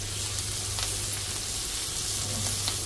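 Ginger and garlic fry with green chili and cardamom in a pan, giving a steady, close sizzle with a soft crackle throughout.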